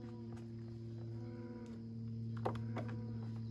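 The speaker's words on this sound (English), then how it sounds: "Those are the cows in the background" Low, sustained mooing from cattle, faint and distant, with a few soft clicks and knocks nearby.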